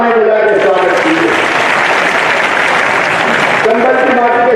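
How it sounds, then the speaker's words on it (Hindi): A large crowd at an outdoor political rally in Morena breaks into loud, sustained applause, a thick roar of clapping that swells and holds before easing off, with someone speaking briefly at the start and the end. "जोरदार ताली बजा के स्वागत कीजिए।"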